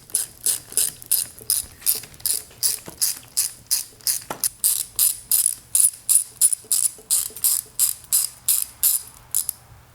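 A hand ratchet works loose the handlebars on a 1972 Honda CB450 barn-find cafe racer, a close run of about twenty rapid, evenly spaced clicking strokes with no talking.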